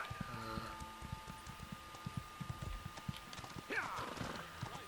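Horse hooves clip-clop steadily in Elder Scrolls Online as a mount trots along, joined by a brief whinny near the end.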